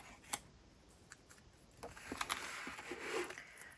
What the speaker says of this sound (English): first I'm just cutting these tails off